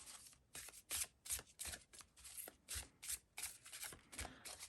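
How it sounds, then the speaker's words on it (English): Repeated riffling bursts of tarot cards being shuffled, close and crisp, in quick uneven rhythm with short gaps between passes. "Feeling like I just need to shuffle these for a little while."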